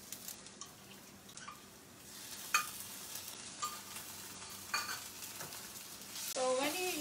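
Ginger garlic paste frying in a non-stick pan, a soft continuous sizzle with occasional stirring scrapes and small pops, close and fairly quiet, with no talk.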